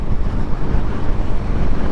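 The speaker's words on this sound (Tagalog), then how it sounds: "Sobrang lakas ng hangin." Strong wind gusts outdoors on a wet road near a campsite in Malico, Pangasinan, while someone rides a motorcycle, producing a loud, continuous low rumble of buffeting wind with no voices.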